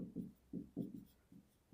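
A pen scratches out a math solution on paper during a class 6 NCERT lesson, giving faint, close strokes in short irregular bursts with brief gaps and no talk.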